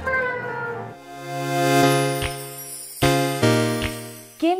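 A robot cat on a street in Seoul gives loud, drawn-out electronic meows, several in a row, with bright tinkling tones mixed in and no talking.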